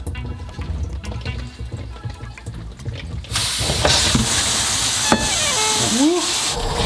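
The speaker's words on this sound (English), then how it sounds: "Water seems to be less when I turn it to the left." Water bursts from a bathroom faucet that is being replaced. After a few seconds of quiet handling noise, it starts abruptly into a loud, steady rushing spray and hiss close by, with a few knocks and clunks over it.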